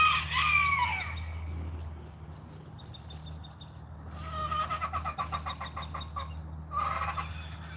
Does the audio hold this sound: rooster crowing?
yes